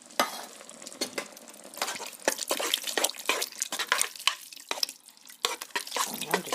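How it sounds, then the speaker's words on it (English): A spoon stirring homemade rice and sausage soup in a pot: a steady run of close scraping, clinking strokes with faint bubbling beneath, no talking. "I'm just gonna give this a stir."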